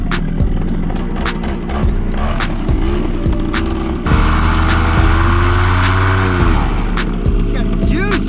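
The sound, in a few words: paramotor engine and propeller under throttle, SkyMax titanium muffler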